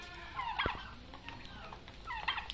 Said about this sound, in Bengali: এগুলো হলো 3 মাস বয়সের টার্কি মুরগি